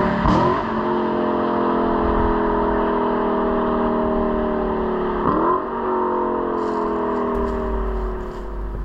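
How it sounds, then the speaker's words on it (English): A Lexus LC500 convertible V8 exhaust burbles close and loud through two sharp downshift blips, each followed by a long, steady falling drone, with the engine note alone and no talk. "It's definitely a different exhaust note than you get like in a Cam and block, small block V8."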